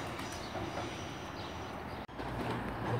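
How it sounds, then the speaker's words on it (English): A cross-country diesel train rolling into Bournemouth station, a low steady rumble of wheels and engine at moderate distance, continuous for a few seconds with a brief sharp break in the middle and no talk. "coming in now is a terminating cross-country service from Manchester Piccadilly"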